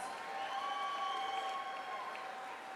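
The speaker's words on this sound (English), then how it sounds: "have a nice round of applause once again for Lucretia Meacham and Aleksandra Lopes" Fight audience applauding after a six-round women's bout before the scores are read, a soft, distant, sustained patter of many hands with faint crowd murmur and a few cheers.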